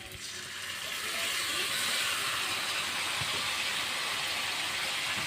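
Garlic and green chili paste sizzling in hot oil over fried onions, a steady, close, broad hiss that swells in the first second and then holds level, with a little faint talking.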